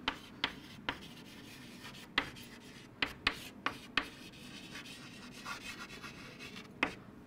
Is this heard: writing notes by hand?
yes